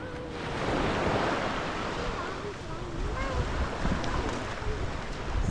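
Waves wash steadily onto a small beach at Koh Lanta, Thailand, a broad continuous surf roar with gentle swells and some wind buffeting the microphone, with faint voices and distant tones drifting underneath.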